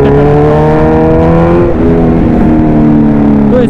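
Kawasaki Z900 motorcycle engine after its service, throttle bodies cleaned, revving loudly and steadily with a harsh, sustained exhaust note and a brief dip in the middle.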